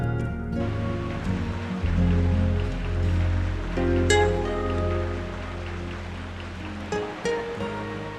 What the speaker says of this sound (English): Since we came here to Cambodia, it keeps raining all the time.